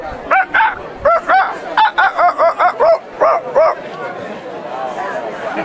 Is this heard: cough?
no